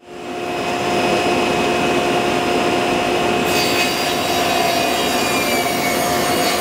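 A power saw runs steadily and loudly through wooden bed rails, cutting them to size, for several seconds, its tone shifting slightly midway as the cut progresses.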